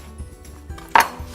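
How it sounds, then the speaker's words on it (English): Knife chopping an organic apple into bite-sized pieces on a cutting board, a few soft thuds followed by one sharper, louder knock near the end, with no talking. "So you want to cut this up into just bite-sized pieces."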